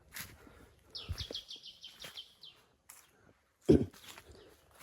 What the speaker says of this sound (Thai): เพราะว่าเสียงนกเนี่ยดังมากเลยนะ